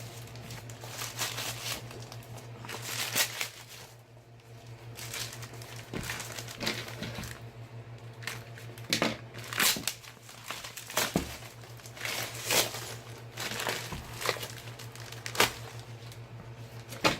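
Tough weatherproof plastic wrap is cut and peeled off a diamond painting box, giving quiet, irregular crinkling and crackling with occasional snips and rustles close up, no talking.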